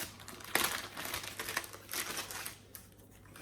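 Plastic envelope crinkling and rustling as it is handled and opened while unboxing an Ecotech Vortech MP40 QD aquarium pump, with irregular close crackles and a faint steady hum underneath.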